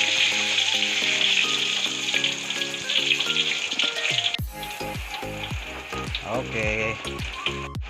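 Catfish deep-frying in hot oil for pecel lele Lamongan, a loud, constant crackling sizzle, with clinks and scraping of a utensil in the pan partway through.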